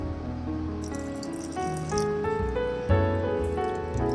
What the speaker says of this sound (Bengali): আবারও আমি একটু পানি এখানে দিয়ে দেবো